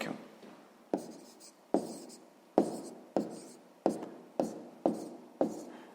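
Pen or pencil writing by hand on paper while a math answer is noted down, a series of about eight quick, close scratchy strokes at a steady rhythm with no talk.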